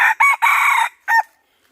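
A red junglefowl rooster crows loudly and close by during a hunt: a broken, multi-part crow followed by a shorter second call, then quiet.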